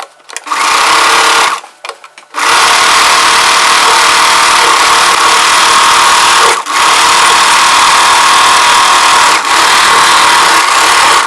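A close, loud sewing machine stitching one layer of a frill for a layered chudidar, starting with two short bursts and then running in one long steady stretch with only tiny breaks.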